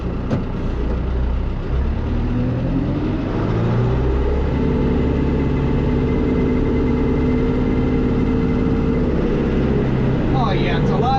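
A rented tractor's diesel engine idles steadily and close by, a deep continuous rumble with shifting harmonic tones, with a person speaking over it.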